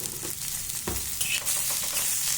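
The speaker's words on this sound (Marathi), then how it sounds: "आता आपण आपला मसाला भाजून घेऊ कांदा आपण असा छान ब्राऊन होईपर्यंत भाजून घेऊ" Onion and masala fry in a pan, browning with a steady close sizzle and occasional scrapes of stirring throughout.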